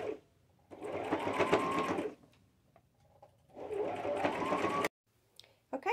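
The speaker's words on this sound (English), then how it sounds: "I can just sew right over the top of them." A domestic sewing machine stitches over pins while taking in a garment at the hips, running in two steady bursts of about one and a half seconds each, separated by a short pause, loud and close.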